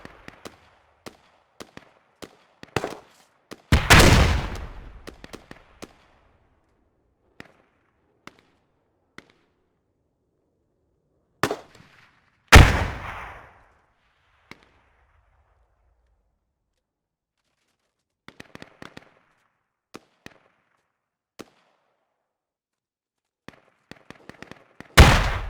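Grenade explosions and gunfire in a multiplayer military shooter game: scattered sharp distant cracks and short bursts throughout, with three loud near blasts that boom and decay slowly, and no talking.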